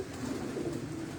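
Pigeons of a fine show breed cooing in a loft, a steady low rolling coo that goes on with no break, fairly close and moderately loud, with no talking.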